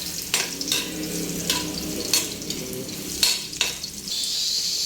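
Garlic sizzles in hot oil in a pan while chicken fries for a Filipino tinola, a steady close hiss broken by several sharp stirring scrapes and clinks, with no talking.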